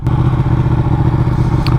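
A Ducati Panigale sport bike's engine idles with a steady, close, low rumbling drone that holds even throughout, with a brief faint clatter near the end.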